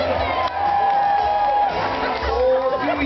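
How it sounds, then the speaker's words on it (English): A crowd at a SuperDogs dog relay show at the Calgary Stampede cheers and whoops loudly for a few seconds, a dense burst of voices filling the arena. "by cheering and or applause, do you want to race with Puff Daddy"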